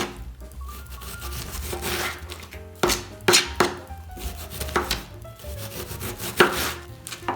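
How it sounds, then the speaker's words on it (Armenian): A knife slices cabbage very thinly on a wooden board, with a steady run of crisp, close cuts and a few louder knocks, and no talking. "Այսպես կտրատում ենք եւ լցնում ենք այս մեծ թասի մեջ։"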